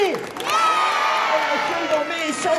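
Crowd at a Japanese street performer's show in Covent Garden, London, cheering and whooping with scattered clapping, a loud, busy mix of raised voices filling the whole moment.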